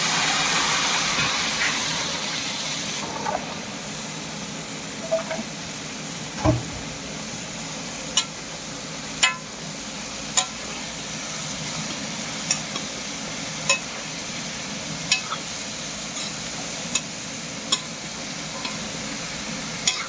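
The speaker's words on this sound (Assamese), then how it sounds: "চব্জিটো ভাজোঁ" Mixed vegetables frying with chili and soybean in a pan give a steady broad sizzle, with sharp stirring clinks and scrapes at fairly regular intervals, close and moderately loud, no talk.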